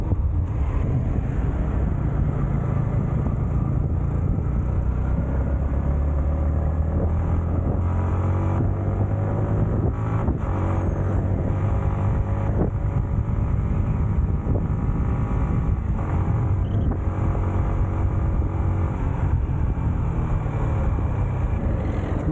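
A car driving up a forested mountain road on the way to Badrinath, with a steady engine drone and road rumble mixed with wind buffeting the microphone, continuous and fairly loud throughout.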